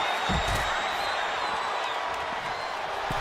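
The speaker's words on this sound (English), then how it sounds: "Kiana James getting the crowd involved here" A crowd in a wrestling video game cheers and roars in a steady, dense wash of noise with scattered claps, sounding distant and holding level throughout.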